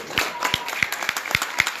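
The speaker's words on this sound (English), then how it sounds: "Just give him a round of applause." An audience at an aldermanic re-election rally in a Chicago training center claps in a brief round of scattered, sharp applause. Background voices carry under it.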